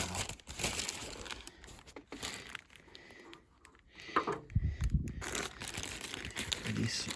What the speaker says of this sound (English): I can just lift the gasket off, and I'll just place it in a plastic bag for now.